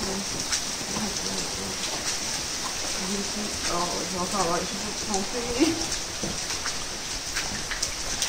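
Steady rain patters across the whole stretch with a constant hiss, while people talk intermittently over it.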